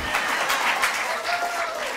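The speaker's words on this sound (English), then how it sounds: "Give Kyle and Linda, Miss Blessy a round of applause for getting us kicked off right." Congregation at a church service claps after the opening music, a short burst of mixed hand claps with faint voices and a lingering tone in the room.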